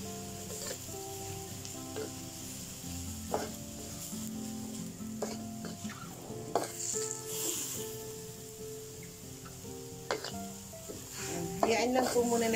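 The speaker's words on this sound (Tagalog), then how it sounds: "Hayaan lang po muna natin kumulo siya para ma-absorb ng gulay natin yung coconut aninos" Vegetables and shirataki noodles simmering with coconut aminos in a pan, giving a close, continuous sizzle broken by scraping stirs and light utensil knocks, with a louder clatter near the end.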